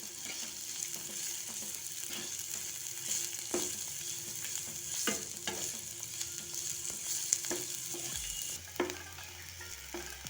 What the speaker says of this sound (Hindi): अब इसमें हम कटी हुई हरी मिर्च, कटा हुआ प्याज, अब इनको हम अच्छे से भून लेंगे।